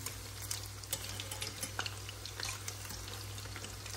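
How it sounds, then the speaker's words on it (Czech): Chicken fries in a pan, a faint steady sizzle with light stirring scrapes and taps over a low constant hum, no voices. "Tak, no a teď se to zamíchá a usmaží."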